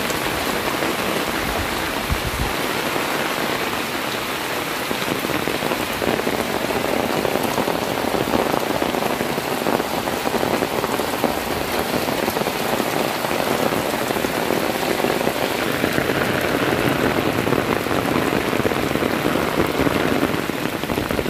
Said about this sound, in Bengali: এরকম বৃষ্টি দেখতে সত্যি খুবই ভালো লাগে